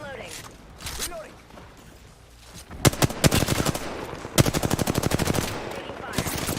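Rapid machine-gun fire in a flight combat video game, loud close bursts of fast rhythmic shots in several volleys, with scattered single shots and other game sounds between them.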